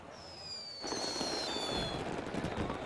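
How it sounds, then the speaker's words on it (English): Fireworks barrage at the Rio Carnaval Sambadrome signals a samba school's entry: a faint whistle first, then a dense, continuous rumble of crackling bursts fills the rest, loud and sustained with no speech. "A barrage of fireworks is Mangueira's cue to enter the Sambadrome."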